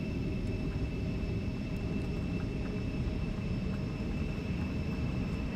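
Embraer E190 regional jet on its takeoff roll in a flight simulator game, a steady, loud, broadband engine roar with a faint high whine running throughout, no talk.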